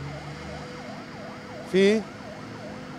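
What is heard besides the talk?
fire engine sirens at a power station fire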